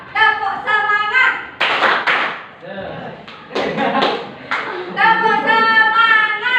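A group performs the 'tepuk semangat' rhythmic clapping routine during an ice-breaking session at an academic coaching meeting, with bursts of patterned claps alternating with sung or chanted voices.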